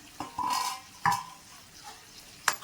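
Chicken fry is stirred in a pan over medium flame, a few brief scraping strokes and soft clanks over a faint sizzle, close and fairly quiet, with no talking.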